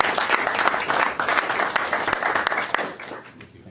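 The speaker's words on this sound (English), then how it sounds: "So let's give Brian Bleach a round of applause for their donation" An audience at a town council meeting applauds to thank a donor, a brisk burst of clapping from a roomful of people that thins out and ends after a few seconds.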